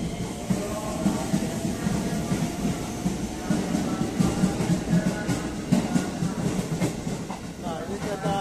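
Continuous rumble and rhythmic rattling of a moving Jakarta commuter train, a JR 205 series heading to Cikarang via Kampung Bandan, heard from inside at moderate volume with faint voices underneath.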